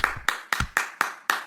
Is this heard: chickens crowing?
no